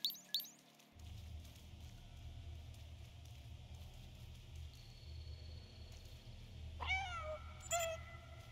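A cat meowing in the video game Stray, with short cries near the start and a clear, rising meow near the end over a low ambient background hum.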